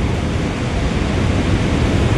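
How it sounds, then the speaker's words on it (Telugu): Water rushes steadily through the gates of the Nagarjuna Sagar dam, a loud broadband roar that holds unchanged and close with no voices over it. "సో చూడండి ఆ వాటర్ ఫ్లో అనేది చూడండి ఎంత బాగుందో"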